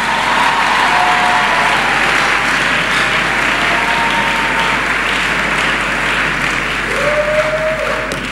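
A church congregation claps and applauds the Lord in sustained, dense applause, loud and continuous from start to finish, with faint voices and whoops mixed in.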